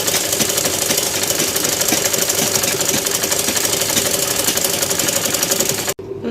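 A sewing machine stitches a lehenga blouse in a steady, rapid mechanical rattle that runs loud and continuous, then cuts off abruptly near the end.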